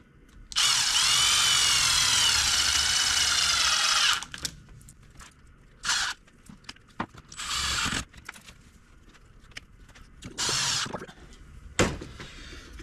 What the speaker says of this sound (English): put some screws in the side